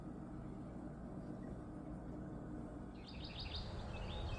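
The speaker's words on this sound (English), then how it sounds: "that was perfect timing for these birds. I like your snowbirds there on the metal roof." Small birds chirp briefly in short high bursts near the end, over steady low outdoor noise beside a historic log home with a metal roof in Ohio.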